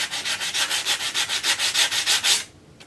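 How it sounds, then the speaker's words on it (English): Sandpaper rubbed back and forth along the edges of a small wooden picture frame, about a dozen even, close strokes in a steady rhythm that stop abruptly near the end. "you're going to want to sand the edges as well as the inside right here"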